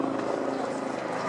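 A Sea King helicopter performing at the Eastbourne airshow gives off a steady, loud, broad rotor and engine roar throughout a brief moment, with no pauses.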